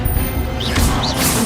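A spell effect from a Harry Potter video game: a sharp, crashing magical burst with brief whooshing chirps, loud and close over a constant busy game background.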